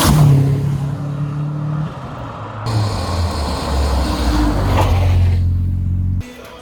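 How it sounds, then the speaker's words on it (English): A truck drives past with a loud, deep rumble that swells and shifts as it goes by, then cuts off sharply near the end. "there's a truck goes by"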